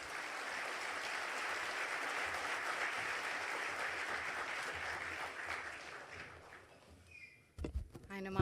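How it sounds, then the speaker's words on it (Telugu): Sustained applause from an audience following a speech at a public gathering, a dense, even clapping that runs for several seconds before fading, then a voice speaks. "చప్పట్లు నడుస్తూనే ఉన్నాయి జరిగినంతసేపు"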